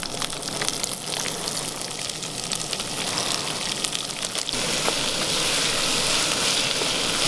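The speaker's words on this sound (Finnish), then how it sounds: "Hyvin ritiseekin täällä pannulla." Chopped vegetables for a chorizo soup sizzle loudly in a frying pan outdoors, a dense, steady crackle that swells as more food hits the hot fat.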